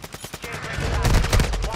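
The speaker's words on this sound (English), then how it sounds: "Oh, I'm getting shot at too." Gunfire in Call of Duty: Warzone: a rapid series of sharp shots, starting as scattered cracks and building into dense, loud automatic bursts that fill the short stretch.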